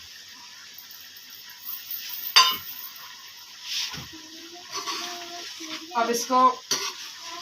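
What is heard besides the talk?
stirring chicken karahi gravy with coriander and cumin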